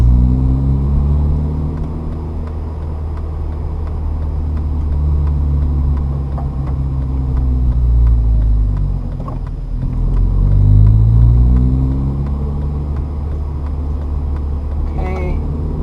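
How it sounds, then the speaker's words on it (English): Manual-transmission car engine through an upshift, a loud steady rumble that dips briefly around the gear change and then swells again as the throttle comes back on, with a voice talking over it. "Hand on shifter, gas off, clutch goes in, shift, smooth clutch out, give gas."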